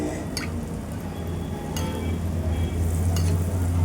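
Sugar anarase deep-frying in hot oil while oil is spooned over the top, a steady close sizzle with soft liquid stirring and faint metallic spoon taps, with no talk.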